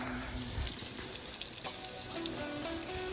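Water flows from drip irrigation lines onto plants, a continuous close hiss and trickle like a running tap, steady throughout with no talking.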